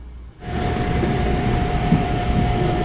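A Sunrise Seto sleeper train idles at Numazu station, a steady low rumble with a faint sustained tone, starting abruptly after a brief quiet moment and continuing evenly.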